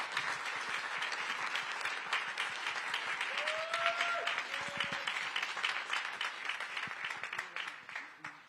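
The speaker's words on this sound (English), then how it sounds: "round of applause for Adam Cianciarulo race's final race tomorrow" A press-conference audience claps for Supercross rider Adam Cianciarulo before the 2024 Monster Energy AMA Supercross final race, sustained moderate applause with a few faint voices and whistles underneath.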